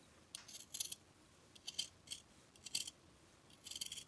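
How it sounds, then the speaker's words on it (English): Scissors snip through the fabric seam allowance of a sewn flat cap in several quick, close bursts of crisp clicks separated by short pauses. "I cut off just this much from one of the seam allowances."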